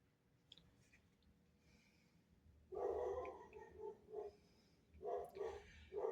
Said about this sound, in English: If you can hear my dogs in the background